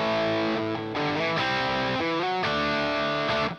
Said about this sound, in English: Again, nice bit of distortion on there.